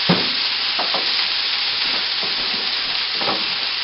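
Broccoli florets and browned onions sauté in butter in a pot, a continuous close sizzle broken by a few soft scraping stirs, with no talking.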